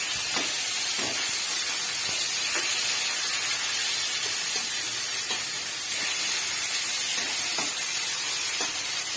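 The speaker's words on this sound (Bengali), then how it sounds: "মাছটা ভাজতে বসিয়ে দিয়েছি" Fish seasoned with salt and turmeric fries in a pan, giving a steady, close sizzling hiss that runs unbroken through the whole stretch, with a few soft spits and pops.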